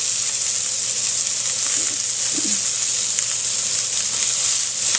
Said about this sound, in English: Now the fish is getting crispy.